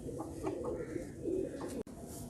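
Soft, low pigeon coos repeat in a gentle rhythm, close by and fairly quiet, with a brief dropout near the end.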